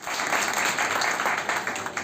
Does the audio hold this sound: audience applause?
yes